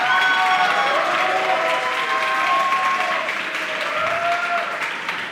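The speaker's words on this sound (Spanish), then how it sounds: "quiero que le demos un muy fuerte aplauso a sus compañeras, compañeros" Strong, sustained applause from an audience for student participants at a literary event, a dense wall of clapping that stays loud throughout and eases slightly toward the end.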